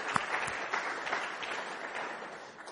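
Congregation in a church applauding its worship team, a steady mid-level wash of clapping hands that holds evenly for a few seconds without voices on top.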